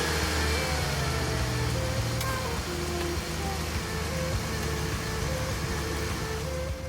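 A Nissan Versa engine idles steadily after being started during a brake pad service, a low continuous hum heard at moderate distance with no talk.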